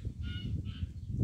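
Two short nasal goose honks from running geese sound in quick succession, fairly faint, over a low rumbling background.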